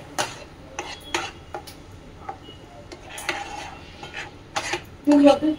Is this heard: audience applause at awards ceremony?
no